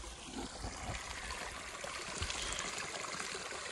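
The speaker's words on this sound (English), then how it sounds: "Matt just filled up, filling up his bladder now." Mountain stream water in Colorado trickles and gurgles steadily while filling a hydration bladder, a soft continuous flow with no voices.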